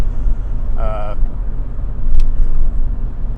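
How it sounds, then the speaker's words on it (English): A heavy engine rumbles loudly and steadily in the low end, close by, with a brief whine and a sharp click partway through. "This is a noisy truck."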